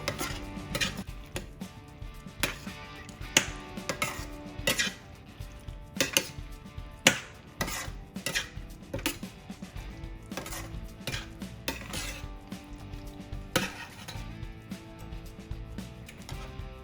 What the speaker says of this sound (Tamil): இது நல்லா கலக்கி விடுங்க